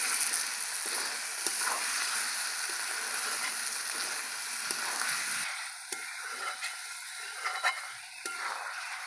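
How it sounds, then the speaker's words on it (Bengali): Fried duck eggs are stirred into a spiced curry in a pan, a constant close sizzle with scraping stirring strokes that become more distinct as the sizzle drops partway through. "আবারও মশলার সাথে হালকা করে নেড়ে চেড়ে নেব।"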